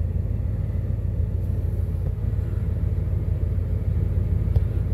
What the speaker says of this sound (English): I'm not sure if you can hear the exhaust